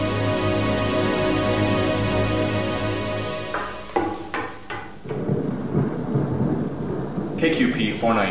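Thunder rumbles through a thunderstorm, a long deep roll followed by several sharp cracks, then steady rain hisses on surfaces as more thunder booms in the distance.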